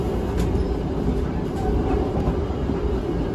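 A Wijayakusuma train rumbling loudly and steadily as it arrives at Solo Balapan station, with a dense low-frequency roar and faint clattering throughout.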